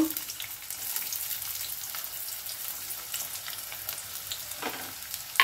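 Chopped onions hit a pan of olive oil over lightly heated refined oil and sizzle with a steady, moderate hiss. A brief clink of a spoon or pan sounds near the end, and no one speaks.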